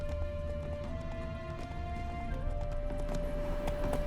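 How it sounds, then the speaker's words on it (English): Hooves of a horse clip-clop steadily in a Witcher 3 game as the horse runs, a continuous rhythmic patter under a bed of game music, with no speech. "Slow now, whoa. Run, Roach."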